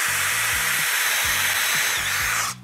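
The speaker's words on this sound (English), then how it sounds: "I'm using that drill bit that allows me to drill and countersink at the same time" A power drill fitted with a combined drill and countersink bit bores into wood for a DIY plant caddy, a loud steady whine with a low pulsing motor that cuts off just before the end.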